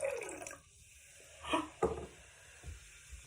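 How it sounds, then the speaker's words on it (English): Vinegar briefly poured into baking soda water with rice, followed by a couple of soft fizzing splashes and faint bubbling, close by, with quiet pauses between. "Did you hear that sound it made when I poured the vinegar"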